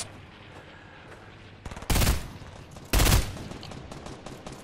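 Two loud bursts of video game gunfire ring out a second apart, each a short, dense crackle over a quieter background of game ambience.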